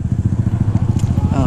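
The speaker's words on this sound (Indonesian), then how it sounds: "gue mau review bentar knalpot GP7 nih. Tekken Black Edition." Close idling rumble of a GP7 Tekken Black Edition aftermarket exhaust on a Honda CRF 150 motorcycle, a rapid even low-pitched pulse throughout the short burst.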